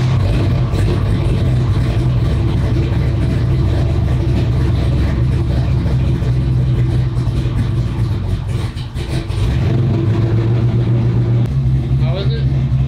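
A car engine, the clutch pedal being checked, runs steadily at a loud low idle throughout, with a brief dip near the middle before settling back; people talk over it.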